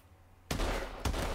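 Two loud sniper rifle shots in the video game Call of Duty Advanced Warfare, each a sharp crack with a long booming tail, the second following about half a second after the first.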